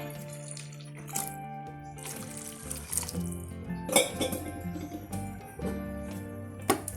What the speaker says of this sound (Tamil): நீ குழம்புக்கு தேவையான அளவுக்கு தண்ணி ஊற்றிக்கலாம்.